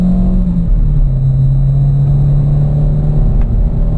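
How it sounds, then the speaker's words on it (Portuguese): A Peugeot 307 engine revs up close, a steady low drone that rises slightly in pitch and holds, with rumbling road-vehicle tone and no talking. "E vamos dar aquela acelerada no 307, só para mostrar um pouquinho da potência dele aí para vocês"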